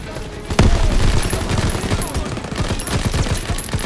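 Dense, sustained automatic gunfire in Call of Duty, a loud close shot at the start followed by rapid continuous rattling volleys throughout.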